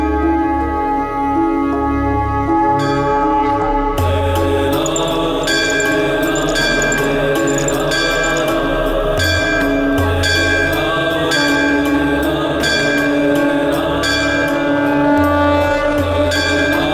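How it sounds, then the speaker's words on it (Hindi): A temple bell rings loudly at night, repeated metallic strikes with long ringing overtones sounding over a steady background of music. "इतनी तेज ध्वनि में घंटी बजा रहा है"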